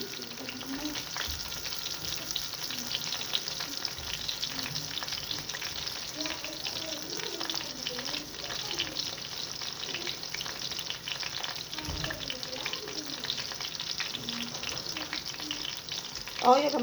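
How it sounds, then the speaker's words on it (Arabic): Eggplant slices fry in hot oil with a dense, steady sizzle and crackle, heard close and continuous without any voices. "كده يتقل معانا البتنجان"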